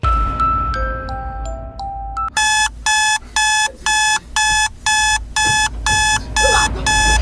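A few soft chimes lead into a loud electronic alarm clock, beeping in rapid repeated bursts with short pauses between them.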